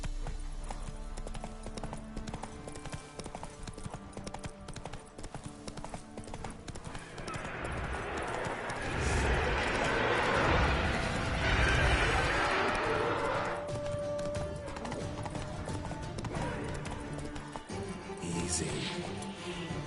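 Hooves of a horse clip-clopping in a galloping rhythm in The Witcher 3, with a brief whinny and swelling in-game action noise midway, steady and close throughout.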